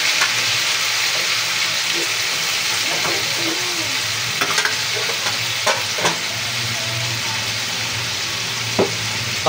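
Food frying in a pan gives a loud, continuous crackling sizzle close by, with occasional clinks and light stirring sounds through it.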